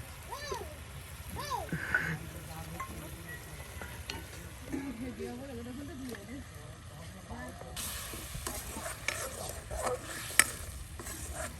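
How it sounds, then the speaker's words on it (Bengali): Spice masala being stirred and fried in a pan, a steady soft sizzle with scraping stirs running throughout, while people talk quietly over it. "মজানো মশলা, মজানো একদম কষিয়ে মজিয়ে নেওয়া হচ্ছে।"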